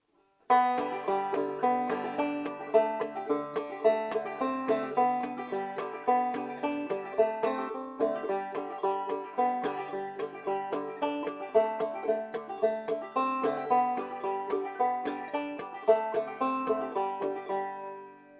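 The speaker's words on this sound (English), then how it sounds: "with the right hand frailing strum, it gives us that drive and that momentum" A clawhammer banjo plays the folk tune Skip to My Lou with a steady, driving frailing rhythm, bright plucked notes continuing without pause, close and unaccompanied.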